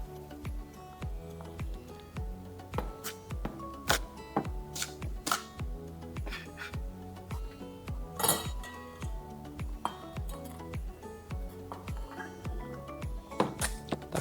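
Shallots chopped roughly with a knife on a cutting board, quick sharp regular taps in a steady rhythm, close and clear with little else around them.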